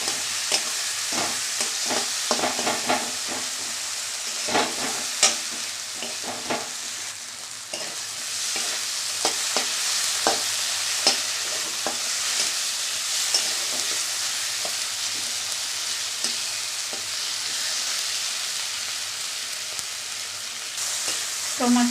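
Spices with turmeric and chili powder, along with onion and tomato, fry and get stirred in a pan, a steady sizzle with repeated scraping strokes of a spatula, close and even for the whole stretch.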